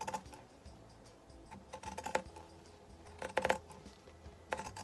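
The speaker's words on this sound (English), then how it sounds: "So I'm just going to cut around the head." Scissors snip around a denim head shape in close, quiet clusters of crisp clicks and cuts, separated by short pauses.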